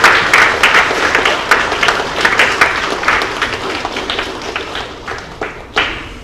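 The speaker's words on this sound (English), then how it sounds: "Kids, could you please join me in applauding your parents and your teachers here?" Children at a fifth-grade graduation ceremony clap together in a dense, steady burst of applause, with sharper individual claps standing out near and loud throughout.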